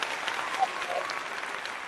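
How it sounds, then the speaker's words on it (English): Audience applause at an award presentation, steady clapping from a small crowd at moderate volume lasting the whole moment, with no voices over it. "If everybody would give a round of applause for Tonya and that award."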